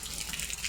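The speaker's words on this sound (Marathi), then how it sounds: "धुते धुते ती दुसरी चप्पल ती शेणातली चप्पल आहे" Water splashes and runs steadily while a dung-soiled sandal is washed outdoors, a continuous close hiss of flowing water with no talk.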